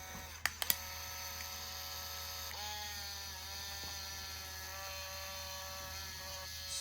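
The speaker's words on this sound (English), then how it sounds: "we're just hearing the camera spool the film out of the cartridge" A Canon IXUS Z70 APS camera spools film out of its cartridge: two sharp clicks near the start, then a steady, faint motor whir with a shift in pitch partway through, close and alone.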